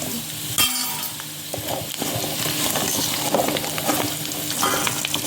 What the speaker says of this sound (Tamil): 2 கொத்து கருவேப்பிலை போட்டு ஃப்ரை பண்ணிக்கலாம்.